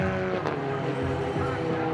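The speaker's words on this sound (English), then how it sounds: "here's that battle between Gary Block and that number 48 car of Ron Tomlinson" Touring race cars in a TCR class battle at Canadian Tire Motorsport Park, engines droning loud and continuous as they run close together, with tire noise in the mix.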